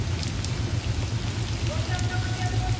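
Steady rain falling outside an old house where a vehicle is being washed, giving a dense, even hiss with a low rumble underneath that continues without pause, and faint voices in the background.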